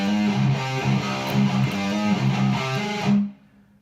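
A distorted electric guitar plays a repeating riff of chugging notes and hammer-ons, loud and close, then the last note rings and is cut off.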